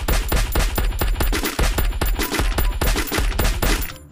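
Rapid automatic gunfire in the Free Fire mobile battle game, dense repeated shots rattling on loudly and almost continuously for several seconds before cutting off near the end.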